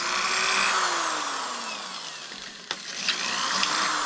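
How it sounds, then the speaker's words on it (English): A 1/4-inch drill bores through the spout of a handmade powder horn, a steady whining buzz with shifting pitch that runs close and loud for about three seconds, then drops away into a few faint clicks. "And then drill through it."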